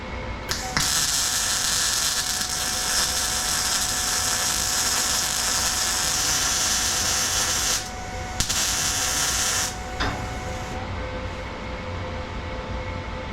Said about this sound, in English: So let's spot weld these.